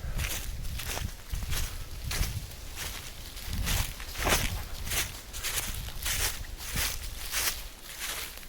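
Steady footsteps on an uphill nature hike near a village, rhythmic crunching steps on ground and leaves, close and fairly loud, continuing without speech.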